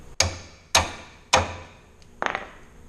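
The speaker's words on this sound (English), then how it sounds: "you're not going to be able to get this piece out without hammering it straight out. Just brace the door and hit it head on." A hammer strikes a washing machine door handle piece three times at an even pace to knock it straight out, with sharp close metallic blows and a quicker cluster of lighter taps after them.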